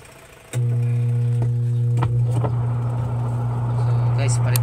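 A washing machine motor with a faulty capacitor hums loudly without turning, a steady low drone that starts abruptly and holds, with a few clicks and knocks and a voice talking over it.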